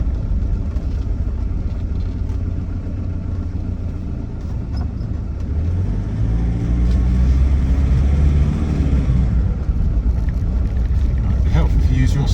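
A Land Rover Defender 90 TDCi with an automatic conversion drives on a bumpy, potholed road, its diesel engine and road noise a steady, loud rumble that swells toward the end as it accelerates.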